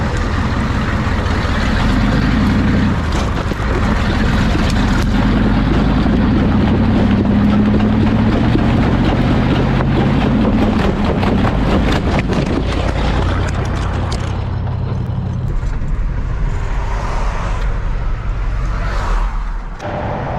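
Heavy traffic roars past on a busy highway while a flatbed 7.3 IDI diesel truck sits on the roadside, with a loud continuous rumble and wind buffeting the microphone before the noise eases toward the end.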